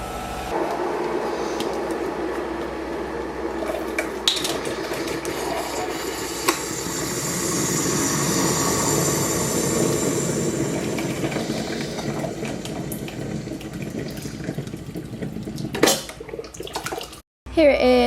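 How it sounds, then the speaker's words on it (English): A kettle heats water to a boil, its broad hissing roar building and holding steady before trailing off, with scattered clatter nearby. "So I'm just going to boil some hot water"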